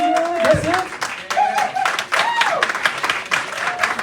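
An audience at a Kwanzaa community panel on violence claps, scattered hand claps and brief applause mixed with lively voices and cheering, uneven and bursting in short waves.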